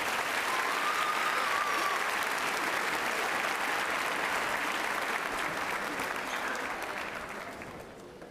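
Sustained audience applause at a middle school 8th grade graduation celebration, steady and dense for most of the stretch, then gradually thinning and fading near the end.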